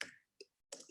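Typing on a computer keyboard while entering a worksheet name, three short bursts of light key clicks separated by brief silences, close and quiet.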